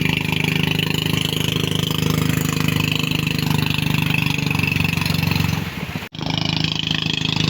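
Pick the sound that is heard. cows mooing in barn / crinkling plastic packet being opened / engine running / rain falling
engine running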